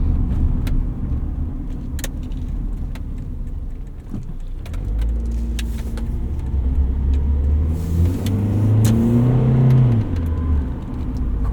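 A 1988 Honda Prelude Si with an automatic transmission drives along, its engine humming steadily from inside the cabin, with rising tones as it accelerates and shifts and a low road rumble throughout.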